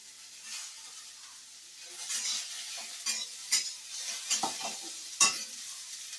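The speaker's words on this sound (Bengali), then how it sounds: "এই সিমটা দিয়ে দিলাম, এই ভাজা ভাজা হচ্ছে।" Broad beans frying and being stirred in a pan while cooking a Bengali shukto, with a steady sizzle and bursts of scraping as the spatula moves through the pan, close and moderately loud with no talking.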